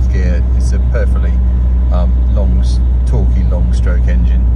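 A 1973 Citroën DSuper 5 cruises in fourth gear at about 60 km/h, its engine giving a steady low drone inside the cabin as someone talks over it throughout.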